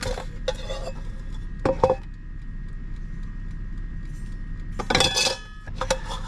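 Quesadilla pieces dumped out of a pan while camp cooking beside a minivan near Mount Rushmore: a few sharp metallic clanks and scrapes of the pan, close and brief, separated by quiet outdoor background hum.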